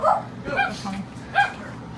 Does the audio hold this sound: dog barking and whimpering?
yes